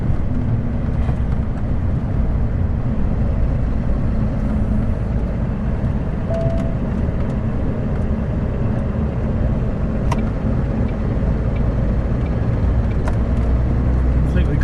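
A steady, loud low rumble of an HGV lorry cruising along the A40 in Wales, heard from inside the cab as a continuous engine and road drone with no breaks.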